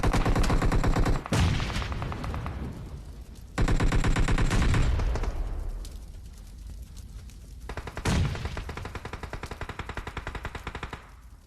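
Suppressed automatic rifle fire rattles through a battle royale video game fight in rapid bursts, with short pauses and echoing tails between volleys.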